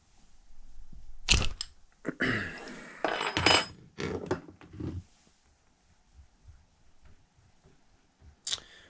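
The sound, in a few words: 17mm wrench and socket breaking loose motorcycle fork nuts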